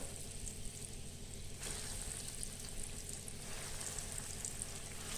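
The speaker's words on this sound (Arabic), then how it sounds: "دوك ندير الحبات تاعي يتقلاو" Cauliflower balls frying in hot oil, a soft continuous bubbling sizzle that grows fuller partway through and holds steady, with no one speaking.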